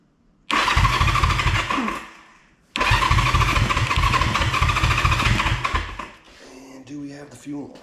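A 1974 Honda CB360 motorcycle engine, just out of storage, cranks and catches in two loud bursts of rough, throbbing running separated by a short pause, then drops away as a voice speaks quietly.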